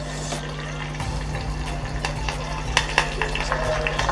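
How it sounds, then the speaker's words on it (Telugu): Curry leaves and coriander sizzle in hot oil in a pan, a steady crackling fry with occasional sharper pops and light stirring scrapes, close and fairly loud with no talking. "కరివేపాకుతో పాటు కొత్తిమీర కూడా ఆయిల్లో వేసుకుందాం ఇవన్నీ కూడా మంచిగా ఫ్రై అయిపోవాలి"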